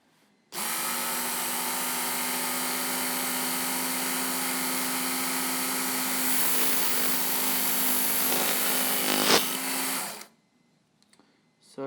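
A belt sander grinds rust off the steel blade of an Opinel No. 8 knife, a loud continuous whine of about ten seconds with a rising scrape as the blade presses in, then cutting off.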